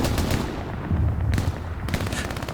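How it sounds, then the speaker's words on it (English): Machine gun fire in the Hell Let Loose video game, loud and dense sustained bursts of rapid shots with heavy low-end rumble, briefly pausing around the middle before the automatic fire resumes. "Ekran now with the MG"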